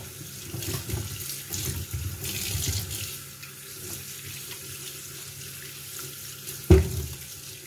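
Kitchen tap runs steadily into a sink as peeled carrots are rinsed under it, a continuous close wash of water with one brief knock near the end and no talking.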